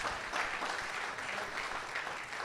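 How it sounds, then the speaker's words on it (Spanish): A church congregation bursts into a brief, steady wash of applause during a Spanish-language sermon, dense and fairly even throughout. "Denle un aplauso al Señor."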